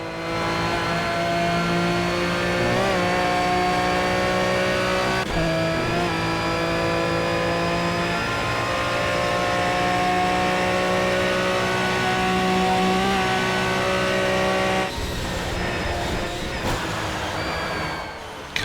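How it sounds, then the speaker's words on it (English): A race car in the video game Project Cars on the Nordschleife runs hard at a steady, sustained engine drone. It goes very sideways through a left-hand kink, and the tone wavers slightly with a shift in texture near the end. "Car getting very, very sideways through that left-handed kink."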